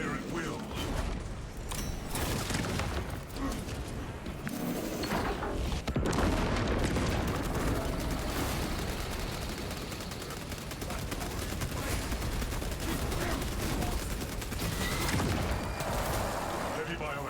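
Dense, sustained gunfire and mechanical clatter in the Warhammer 40k Space Marine II video game, loud and continuous with booming impacts, under game voices.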